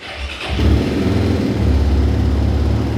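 A Mondial RX3i Evo motorcycle engine cranks and fires at about half a second, then settles into a steady, loud, close running idle with a low pulsing rumble.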